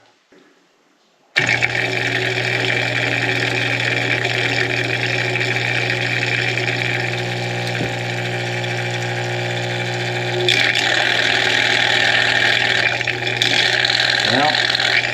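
A Bosch washing machine's drain pump switches on and runs with a steady mechanical hum and whine, its impeller detached from the motor, sounding continuous and fairly close, with a brief shift in tone near the end.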